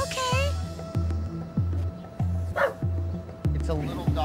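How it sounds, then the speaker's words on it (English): Small stray dog cornered in a yard, barking in a quick run of sharp, close yaps at a steady rhythm, about seven barks in a row, with a person's voice briefly heard between them. "It's a little dog with a big attitude."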